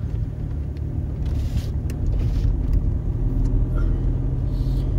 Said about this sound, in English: I'm actually driving back to the campground now